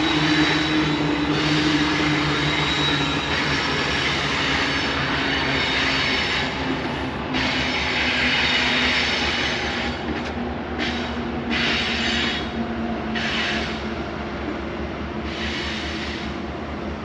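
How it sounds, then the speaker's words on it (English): A train rolls along tracks across a river, a loud, continuous rumbling clatter of railcars sustained for the whole stretch with rhythmic wheel noise. "You barely see the train going by up there."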